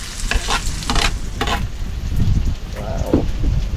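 Chopped onions go into a frying pan for chicken adobo and get stirred, a clattering scrape of utensil on pan over steady frying crackle, fairly close and busy throughout.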